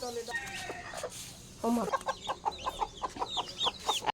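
A mother hen and her newly hatched chicks give rapid high cheeps and soft clucks close by, in quick repeated bursts, with a few low human sounds early on.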